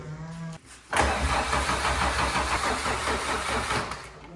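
A car engine cranks but fails to start, a short whirring turnover followed by a loud, close, rough churning that carries on for several seconds, with no voices.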